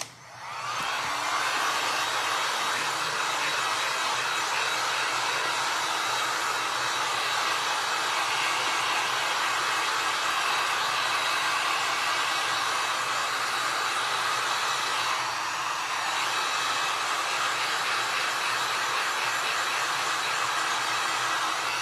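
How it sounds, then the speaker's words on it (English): A heat gun blows a loud, steady roar as it dries paint on a glass ornament. The sound runs continuously for about twenty seconds at close range with no talking. "So let's take 10 seconds and use our heat gun to dry the paint."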